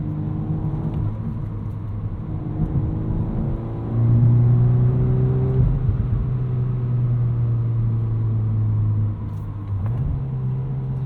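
A 2022 Volkswagen Golf R with a 6-speed manual drones steadily from inside the cabin, the engine pitch climbing and holding high for several seconds before easing back, with a low rumble underneath.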